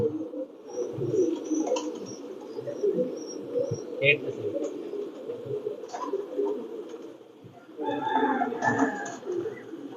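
Pakistani pigeons coo in low, soft repeated phrases at close range, with some brief chirps and people talking over them at times.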